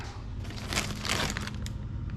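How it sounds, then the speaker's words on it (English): Plastic bags from a Halloween Michael Myers model kit being handled, giving close, irregular crinkling and crumpling bursts over a couple of seconds. "Looks like there's 4 plastic bags that come with it"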